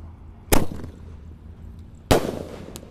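A jumbo paper-wrapped roman candle firework is launched outdoors, giving two sharp, loud bursts about one and a half seconds apart, each a crisp pop with a brief crackling tail.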